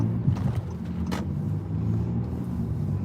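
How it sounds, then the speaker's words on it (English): Road traffic rumbles past in a steady low wash of engines and tires, with a couple of brief sharper sounds from passing vehicles and no talking. "Watching the traffic"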